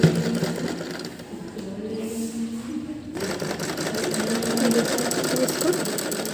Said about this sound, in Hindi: अब इस पर हम साइड साइड से एक सिलाई कर देंगे।